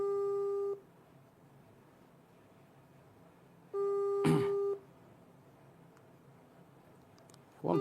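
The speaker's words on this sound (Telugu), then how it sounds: "ఫోన్ రింగ్ అవుతుంది" An outgoing phone call rings back through a handset in two separate, evenly spaced tone bursts, each about a second long, quiet and thin, with short noises between them.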